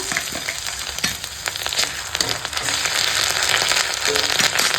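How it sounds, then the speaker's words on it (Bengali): Onion with tempering spices and ginger-garlic paste fries hard in hot oil, a loud continuous crackling sizzle with spattering pops throughout. "ফোড়নের সঙ্গে পেঁয়াজটা ভাজা হয়ে গেছে"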